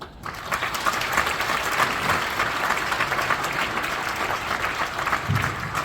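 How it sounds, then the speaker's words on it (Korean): An audience at a church general assembly applauds in a steady, dense wash of clapping that continues for several seconds at a moderate level. No voices come through the applause. "위로의 박수 다시 한번 주시기 바랍니다."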